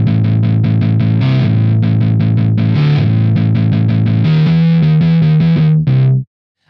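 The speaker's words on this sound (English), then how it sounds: "I really love metal guitar amp sounds. They are super high gain" A high-gain metal guitar amp tone, heavily distorted, plays a loud run of rapid chugging notes and sustained chords, then cuts off abruptly at the end.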